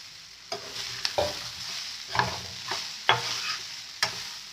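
Flattened rice (poha) tipped into a hot pan with seasoning for atukula pulihora and stirred, a series of scraping stirs and soft rustles over a faint sizzle, close and fairly quiet, with no talking.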